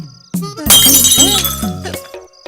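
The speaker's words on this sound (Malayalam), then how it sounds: "പാൽ ഗ്ലാസ് പൊട്ടി" A glass of milk breaking in a Malayalam film scene: a loud, sudden shatter with ringing tones that fade over about two seconds, standing alone without speech.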